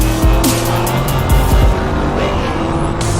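Race cars roar around Daytona International Speedway, a loud, continuous wall of engine noise with cars sweeping past and brief tire squeals, close and unbroken throughout.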